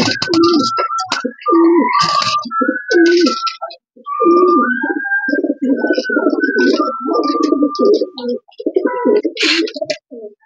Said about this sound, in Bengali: এটা হচ্ছিল নর কবুতর।